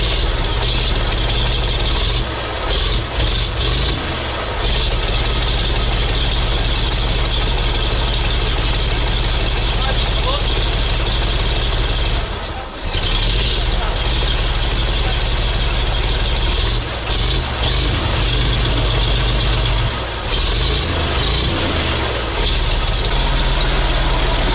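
A MAZ truck diesel engine, left in storage at a military base for 15 years, runs at a loud, steady idle with a rough knocking rumble close by, and people talk now and then over it.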